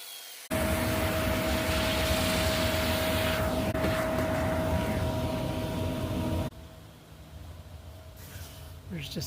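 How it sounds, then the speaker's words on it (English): A shop vacuum roars steadily while sucking up walnut sawdust, loud and close, then cuts off abruptly, leaving quieter room sound with faint rustling. "There's just something extremely satisfying about vacuuming up sawdust."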